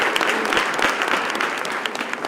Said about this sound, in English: May we give Nyda Oba another round of applause.